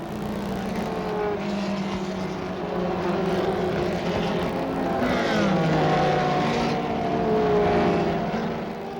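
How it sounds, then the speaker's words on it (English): 1975 Formula Atlantic race cars roar down the pit straight four abreast at the start, a loud dense engine wail with pitches shifting as cars pass close by. "It's a real scramble down the pit straight as cars are 4 abreast."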